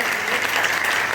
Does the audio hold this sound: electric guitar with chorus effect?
no